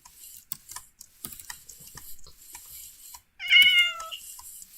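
A cat in the Minecraft video game gives one short, clear meow near the end, after a stretch of faint clicking and tapping game noises, with no talk.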